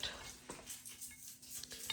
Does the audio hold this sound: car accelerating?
no